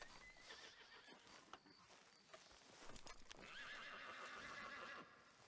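A horse whinnies loudly amid hoof clip-clops and shuffling, followed by a long, high, shaky neigh near the end, in the video game Red Dead Redemption 2.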